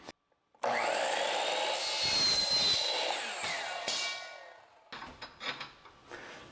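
A chop saw cuts through material for a custom DIY shower glass installation, one loud sustained whining cut of about four seconds, followed by a few short clattering knocks as the piece is handled.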